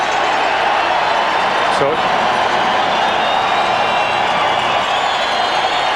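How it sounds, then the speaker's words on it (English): A dense baseball crowd at Game 4 of the 1995 World Series, Atlanta against Cleveland, roars steadily, with a chant for Eddie blended into the continuous noise and a brief voice speaking over it. "Crowd chanting, Eddie, Eddie."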